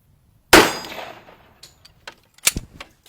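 A .45 ACP bullet fired from a 1911 pistol strikes a titanium plate with a sharp metallic clang that rings and decays, followed by a few smaller clicks and a second crisp impact.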